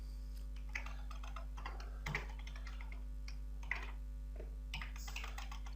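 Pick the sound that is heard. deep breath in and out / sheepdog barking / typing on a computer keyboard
typing on a computer keyboard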